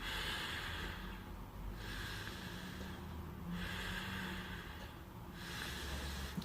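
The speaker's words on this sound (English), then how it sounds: "And then I'm going to breathe through my nose." Slow, steady breathing in and out through the nose, several long airy breaths with brief pauses between them, close and soft against a quiet background.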